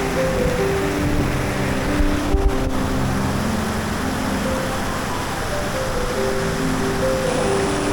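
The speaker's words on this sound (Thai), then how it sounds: "วันนี้พาเพื่อนๆมาเที่ยวน้ำตกแม่สุรินจังหวัดแม่ฮ่องสอนนะครับ" Steady broadband rush of falling water at Mae Surin waterfall in Mae Hong Son, Thailand, a continuous roar that fills the whole clip with no talk, apart from a brief knock near the middle.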